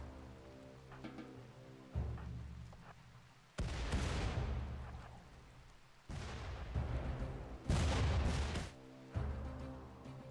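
Explosive breaching during a raid in RimWorld: a series of heavy, rumbling blasts and bursts arrive in separate loud waves, each decaying into crackling noise, over a low steady music bed.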